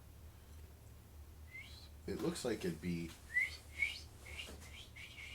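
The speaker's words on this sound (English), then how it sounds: "So it was a bird first. It was that little baby bird." A baby bird chirps in a series of thin, high tweets that repeat steadily after a person speaks briefly nearby.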